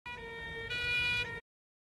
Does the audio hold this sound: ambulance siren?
yes